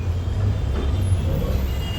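Pune road traffic with a steady low engine rumble and a continuous hiss as bus air brakes release, heard close and unbroken.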